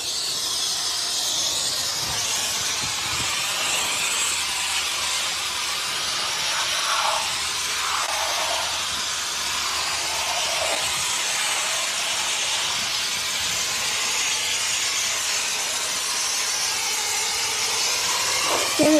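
White foam sprays from a nozzle in a continuous loud hiss that runs unbroken throughout, with faint knocks and shuffles in the background.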